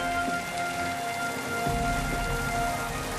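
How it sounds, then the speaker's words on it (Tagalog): Steady rain pattering on a surface, a continuous close hiss with scattered drops and a low rumble underneath. "Umuulan na."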